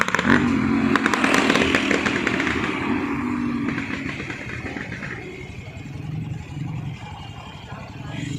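A motorbike engine running and revving nearby on a road in Goa, a steady buzzing drone that gradually settles, with people talking over it.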